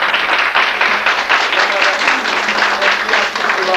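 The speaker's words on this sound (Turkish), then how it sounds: "Bunu bir alkışlayalım canım" Loud, continuous audience clapping at a folk music performance by a Turkish aşık, dense and sustained with possible voices mixed in.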